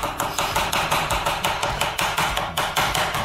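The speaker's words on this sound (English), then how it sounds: "we are trying to get this as finely ground as possible, so there's gonna be a lot of chopping" Knife chopping ingredients very finely for hot dog chili, a fast, regular series of sharp taps on a board, about five per second, loud and close without talk.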